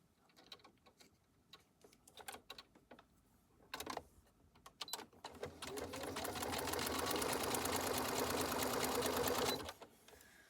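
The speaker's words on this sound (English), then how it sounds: "So I'm just stitching along on one side" A sewing machine stitches fabric, starting with scattered clicks and short bursts, then running in one long steady whirring stretch before stopping abruptly.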